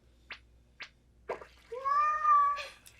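A cat lets out a close, drawn-out meow after a few short clicks and taps, fairly quiet and alone.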